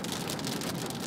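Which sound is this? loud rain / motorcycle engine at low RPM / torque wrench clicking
loud rain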